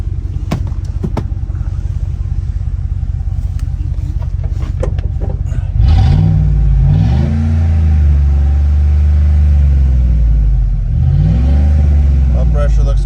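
A Ford F150 XLT 4WD truck with a 5.4 engine and an exhaust leak idles loudly up close with a rapid low ticking throb, then revs in a couple of rising swells and settles back.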